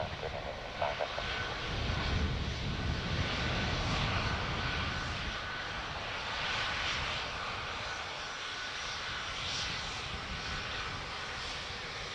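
Airbus A320neo jet engines at Dublin Airport, a steady broad roar holding near and loud across the whole stretch, swelling slightly early on, with no voices over it.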